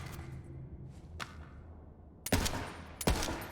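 Gunfire from a gun in the video game Borderlands 3, a few sharp separated shots over a low game backdrop, with a couple of faint cracks early and two louder bursts near the end.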